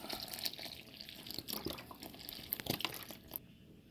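Vegetable broth is poured into a wheat gluten mix with potato flakes, a soft uneven splashing and trickling with small crinkles and drips, fairly quiet and close.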